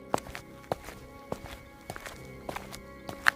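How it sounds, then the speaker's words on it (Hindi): Footsteps walk slowly across a hard wooden veranda floor at night, about six spaced thuds with soft creaks, fairly close and otherwise quiet. "ऐसा लगा जैसे कोई बरामदे में चल रहा हो।"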